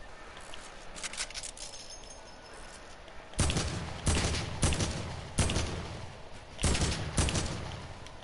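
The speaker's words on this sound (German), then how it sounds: "Wo war der kleine Schuss?" Gunfire in Fortnite during a solo cup match: a quieter stretch of distant shots, then several loud, sharp bursts of shots in uneven groups, with no talking.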